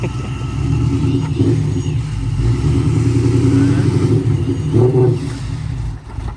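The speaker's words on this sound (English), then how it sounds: "doesn't have the power for a third gear power skid" A supercharged BMW M5 engine revs hard through a power skid attempt, a loud, sustained low rumble with rising and falling pitch that dips briefly near the end.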